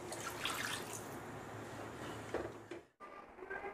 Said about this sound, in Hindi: मसालों के अच्छी तरह से भुन जाने के बाद ज़रूरत के अनुसार पानी डाल देंगे।